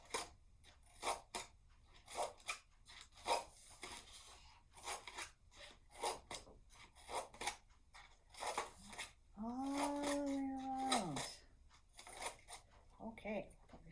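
Scissors snip slits into a paper circle to form flower petals at a children's library craft session, giving repeated short cuts under near, steady talk from an adult.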